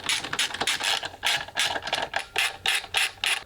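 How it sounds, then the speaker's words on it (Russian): A ratchet clicks in quick bursts as screws holding the ECU bracket are backed out of the intake manifold with a Torx T30 bit on a Z16XER/Z18XER engine, close and crisp, with no one talking. "Теперь откручиваем винты крепления площадки с ЭБУ от впускного коллектора"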